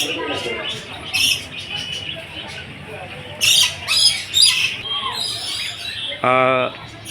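Parrots in a cage in a park give loud, harsh squawks in bursts, with a long buzzing call near the end, over steady outdoor background noise and people talking.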